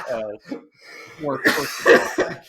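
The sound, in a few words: cough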